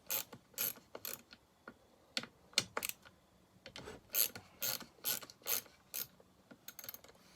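A socket wrench ratchets as it loosens a mount on a McCulloch SP105 chainsaw. Sharp, close clicks come in short irregular bursts and single strokes, steady and crisp, with no talking.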